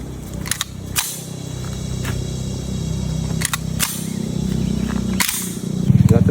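Several sharp, loud gunshots ring out at an outdoor shooting range, spaced apart over a steady background murmur, with a final burst of noise at the end.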